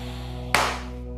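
A single sharp clap of hands brought together overhead during a yoga-style exercise sequence, one crisp close strike that fades quickly over a low steady background hum.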